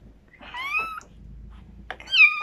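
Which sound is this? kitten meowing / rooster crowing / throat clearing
kitten meowing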